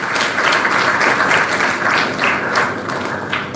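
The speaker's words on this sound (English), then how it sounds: "give him a big round of applause" An audience at a motivational talk in Goa claps together in sustained, dense applause at steady moderate loudness for several seconds with no voices on top.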